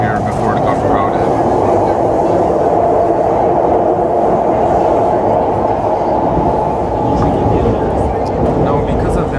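A Siemens C651 train running on the Singapore metro, a loud continuous rumble and low hum of the moving carriage heard from inside, steady throughout with faint rhythmic wheel clatter.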